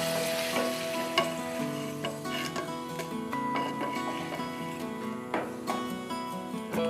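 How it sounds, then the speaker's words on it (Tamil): Pappadam frying in hot oil, a dense, continuous crackling sizzle with scattered pops and occasional clinks from a utensil, steady and close throughout. "கொஞ்சம் கொஞ்சமாகவே பொரிச்சு எடுத்துக்கலாம்."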